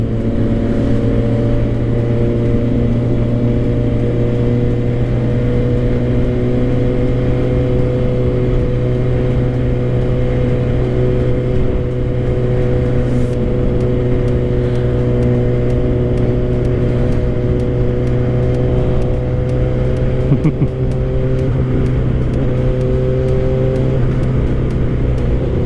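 Suzuki GSX-R600 motorcycle cruising in sixth gear off the throttle, engine braking as a loud, constant droning hum with wind rush, heard from the rider's position without talk.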